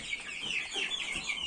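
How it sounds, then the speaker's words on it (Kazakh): Chickens cluck and chatter in a steady run of bright, overlapping calls from a small flock close by, with no voices over them. "Бүгінгі біздің балапандарымыз."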